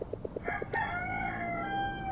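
A rooster in the Until Then video game crows loudly in one long cock-a-doodle-doo over a steady background of music and ambience.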